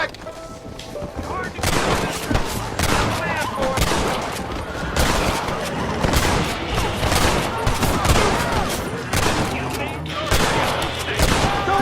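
Gunfire in the Red Dead Redemption video game, a heavy barrage of rapid shots and booming reports that rolls on almost without pause, loud and close, with a voice breaking through briefly in places.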